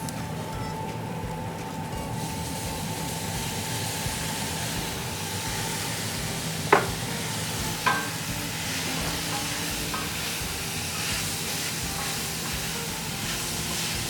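Beef is returned to a pan of caldereta sauce and fries with a steady, moderate sizzle and soft bubbling, stirred at times, with a couple of sharp clinks from a utensil against the pan midway.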